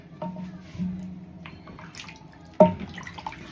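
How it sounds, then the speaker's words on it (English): Water poured into a cooking pot of chicken curry splashes and pours briefly, with a sharper splash near the end; a few faint clinks sit around it. "into our chicken, I'm going to now add water, more water"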